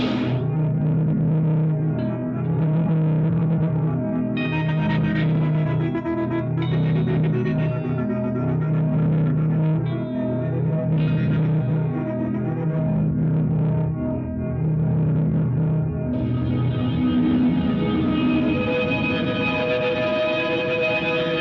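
Electric guitar played through a Chase Bliss Onward ambient effects pedal, washed in distortion, echo and long reverb, sustained chords blurring together continuously.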